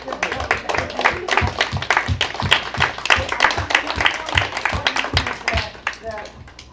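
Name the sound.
audience applause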